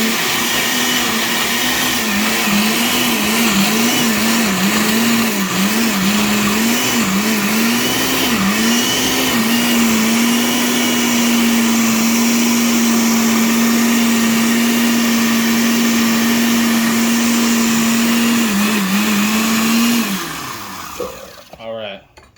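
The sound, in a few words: blender blending a sauce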